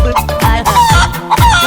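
A Giriraja hen clucks loudly and close in a comedy sketch, several short, rising calls in quick succession with no other sound behind them.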